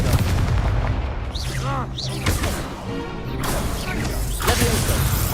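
Confringo blasting spells fire in Hogwarts Legacy, with repeated loud explosive bursts, whooshes and crashing impacts piling up in rapid succession amid heavy combat noise.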